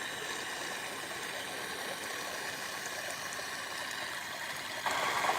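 Water runs steadily through a gold concentrate sluice during cleanup, a continuous broadband rushing wash heard close and even throughout, growing slightly louder near the end, with no talk.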